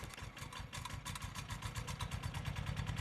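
An old 1957 Chevy engine, found sitting out in the middle of nowhere, keeps running after finally starting, a steady rough idle with a rhythmic pulsing chug, fairly close and continuous.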